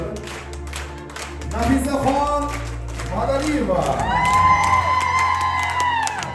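A crowd at a celebratory gathering claps and cheers, the applause swelling and whoops rising over it, with a voice speaking over the noise at the start.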